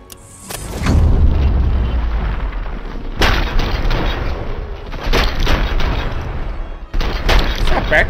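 Gunfire from the RoboCop: Rogue City video game on PC, heavy booming shots in loud bursts with sharp onsets near the start, around 3 seconds and again near 7 seconds, layered with dense crackling action sound.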